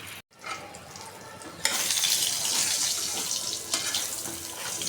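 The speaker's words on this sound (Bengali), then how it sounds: "তেল একটু ফ্রেশ হয়ে এখন আমি ঝোলের পানি দিয়ে দেবো" Water is poured into a pan of chicken curry for gravy, a sudden loud rushing splash and sizzle after a quieter start, continuing steadily up close with no talking.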